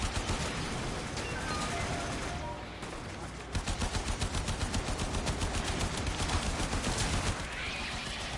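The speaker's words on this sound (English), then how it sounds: "Those missiles hurt." Missile strikes and heavy weapon fire pounding the player character in the video game Warframe, a dense, loud, continuous barrage with rapid repeated bursts in the middle and no pauses.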